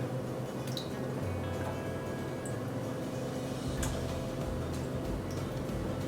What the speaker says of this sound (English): Just get your pears cut side down into your pot and just gently put them all in.